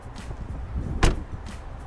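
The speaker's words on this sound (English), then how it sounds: "Let me pop the hood for you." A 2018 BMW M5 Performance's hood pops open with one sharp latch release near the middle, preceded and followed by softer handling clunks, close and alone.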